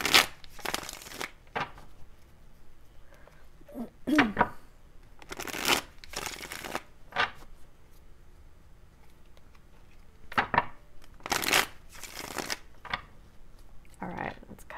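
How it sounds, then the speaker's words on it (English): Tarot cards being shuffled by hand, loud close riffling bursts repeating every few seconds with quieter handling between them. "Let's get a few shuffles in here."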